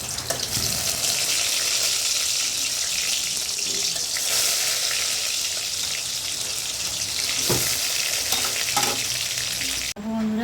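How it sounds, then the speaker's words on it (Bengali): Eggplant slices fry in hot oil in a home kitchen in Bengal, giving a loud, continuous close sizzle and crackle for the whole stretch, with occasional clinks and stirring noises. "আমি এবার বেগুন ভাজাটা বসিয়ে দেবো"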